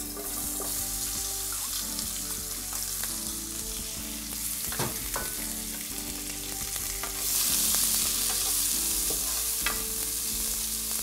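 Onions frying in a pan for beef short ribs give a steady, close sizzle with scattered stirring clicks, the hiss swelling louder toward the end.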